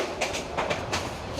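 Tista Express, a passenger train, rolling along the rails with a steady rumble and faint repeated wheel clicks, heard from onboard under ongoing talk.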